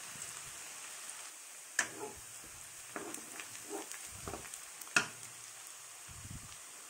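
Finely minced garlic, about two bulbs, frying in a pan for red sauce pasta, with a soft steady sizzle broken by occasional crackles, pops and quiet stirring taps.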